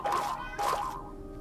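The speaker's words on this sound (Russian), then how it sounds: "Это кошки прыгают по кувшинкам." Cats hopping onto lily pads in the Minecraft video game make two soft, springy bounce sounds about half a second apart, each a short mid-pitched tonal blip, moderately loud and alone.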